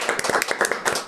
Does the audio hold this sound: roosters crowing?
no